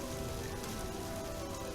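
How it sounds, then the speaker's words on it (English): Steady rain beats on a roof overhead in a candlelit room, a constant, even patter that holds without pause throughout. "rain beats on the roof overhead"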